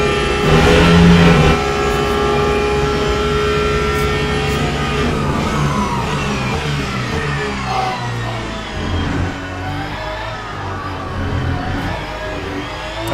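Mercedes AMG LMGT3 race car engine heard from the cockpit in the sim racing game Le Mans Ultimate, a loud steady howl rising and falling through revs and gear changes, with no talking throughout.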